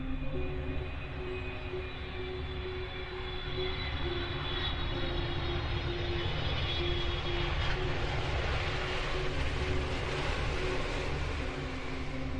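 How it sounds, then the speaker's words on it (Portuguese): Boeing 727 jet airliner landing at Seattle, its engines giving a loud, steady roar with a sustained whine throughout, close and unbroken, with no voices present. "15 minutos depois o 727 pousou em Seattle"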